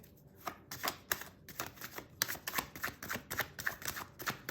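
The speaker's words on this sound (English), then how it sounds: "Let me get a little more shuffling in, actually." A tarot card deck is shuffled by hand in a quiet room, giving a close, soft run of rapid riffling bursts and light card slaps in an irregular rhythm.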